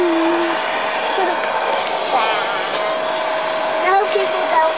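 A vacuum cleaner runs throughout with a steady, loud whine and droning motor noise, close by and uninterrupted, with faint voices barely audible underneath.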